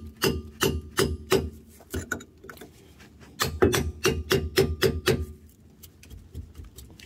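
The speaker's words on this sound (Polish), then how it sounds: "Młoteczek." A hammer taps repeatedly on a car differential cover that has gone untouched for twenty years, the metal struck in quick bursts of sharp knocks with short pauses between them, close and loud, with no talking.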